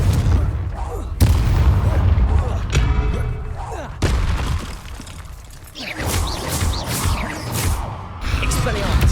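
Confringo spell blasts in Hogwarts Legacy, several sharp booming explosions at intervals amid combat clatter and game sounds, loud and close.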